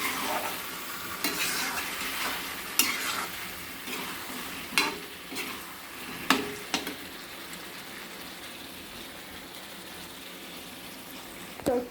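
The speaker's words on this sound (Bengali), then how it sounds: "তো চলো একটু লাড়া দিয়ে নেই।" Chicken kosha with potatoes is stirred in a pan, with irregular scraping strokes of a spoon over a soft sizzle, close and fairly quiet, with no voices.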